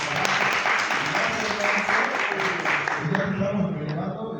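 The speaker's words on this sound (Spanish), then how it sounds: "Yo le pido un aplauso al maestro." An audience at an outdoor community assembly in Chapultepec breaks into applause, a dense, continuous clatter of many hands that tapers slightly toward the end, with voices mixed in.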